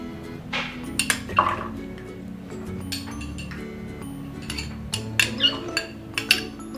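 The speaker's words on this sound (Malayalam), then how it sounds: "അപ്പം നമുക്ക് എടുത്തു വെച്ചേക്കുന്ന ചേനയും ഏത്തക്കായും നമുക്ക് ഈ ചട്ടിയിലേക്ക് ഇട്ട് കൊടുക്കാം" Chopped yam and raw plantain pieces dropped into a clay pot in a home kitchen, giving a string of light clinks and knocks spread over several seconds, close and fairly quiet.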